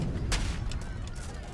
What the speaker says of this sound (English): Cannon's looking to start firing away here.